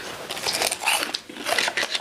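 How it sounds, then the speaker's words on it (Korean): Crunchy, freshly fried assorted fritters are bitten and chewed at a tuna restaurant. Sharp crisp crunches come close to the mic in irregular bursts, with short pauses between bites. "엄청 바삭바삭해. 바로 튀겨서 바로 준 것 같아."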